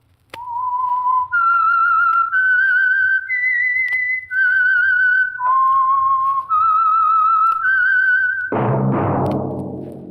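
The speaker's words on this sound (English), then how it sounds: "That whistle is your signal for the Signal Oil Program" A clear, loud whistled melody of sustained notes stepping up and down, ending with a brief burst of orchestral music.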